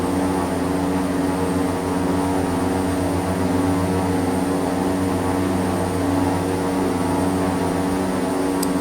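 Steady, continuous drone of an OV-10 Bronco twin-propeller aircraft in flight in Microsoft Flight Simulator, a loud, even engine hum with no talk, holding constant from start to end.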